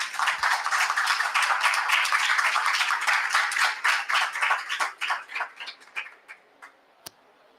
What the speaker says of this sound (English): please join me in giving a big round of applause to our panel